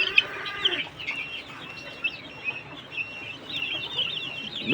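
Caged white and red roosters and hens cluck and chirp in short, scattered bursts close by, with a few sharper calls over a quiet room.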